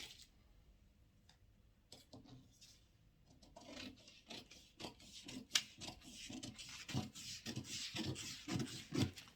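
Scissors snipping through a paper corset pattern panel, a soft, close series of irregular cuts and rustles that grows busier and a little louder as the cutting goes on.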